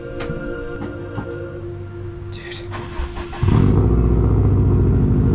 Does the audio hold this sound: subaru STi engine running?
yes